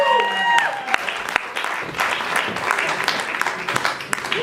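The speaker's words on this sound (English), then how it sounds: "Give a round of applause." A crowd at a talk breaks into applause, uneven clapping with sharp individual claps. It starts with a brief vocal sound and is mixed with some voices.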